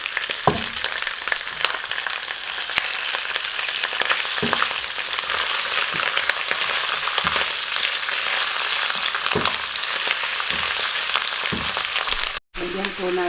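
Onion and mushroom fry in a pan, a steady bright sizzle running throughout with repeated soft scraping and stirring knocks, ending with a brief dropout.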